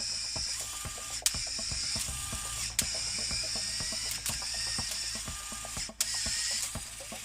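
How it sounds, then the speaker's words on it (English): A Lego Technic bidirectional automatic two-speed gearbox runs on a battery box, a quiet, steady mechanical whir of plastic gears with rapid ratcheting clicks and several sharper snaps as it shifts, heard close with no voices. "And as you can see, the gearbox works quite good."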